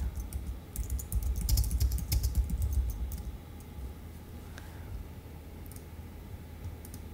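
Rapid typing on a computer keyboard, a dense burst of close, crisp key clicks for about three seconds that then thins to a few scattered taps against quiet room noise.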